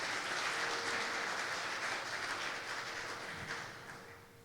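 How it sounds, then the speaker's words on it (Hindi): Congregation applauding in a church service, a dense continuous wash of clapping that holds steady and then gradually fades toward the end, with a faint tonal hum underneath. "जोरदार तालियां खुदा के लिए बजाएं"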